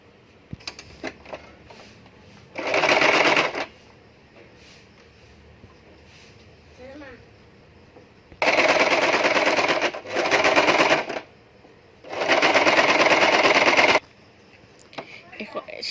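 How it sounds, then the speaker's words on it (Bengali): A sewing machine runs in several bursts of rapid, steady stitching while sewing a princess cut nighty, with quiet pauses between runs and a voice talking in the gaps. "এখন আমি মেশিন দিয়ে সেলাই দিয়ে দিব।"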